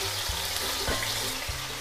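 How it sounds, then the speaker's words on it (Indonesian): Lamb ribs sautéing in hot oil in a pan, a close, steady sizzle and crackle with a few soft knocks of the meat being moved. "Ini saya tumis sampai dagingnya agak sedikit kaku."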